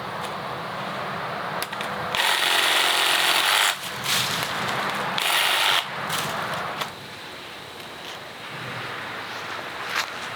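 A sawzall cuts through a cut-down tree trunk outdoors, sending out bursts of loud, buzzing reciprocating saw noise that stop and start again, with wind rumbling on the microphone in between.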